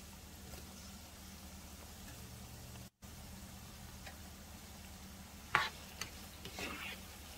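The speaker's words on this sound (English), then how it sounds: "I'm just gonna saute this for a couple of minutes." Chopped tomatoes, garlic and ginger sautéing in a pan, a soft, low, steady sizzle with a few light clicks and stirring scrapes near the end.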